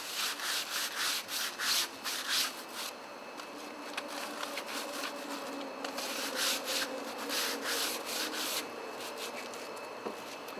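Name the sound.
fine sandpaper lightly rubbing a tool handle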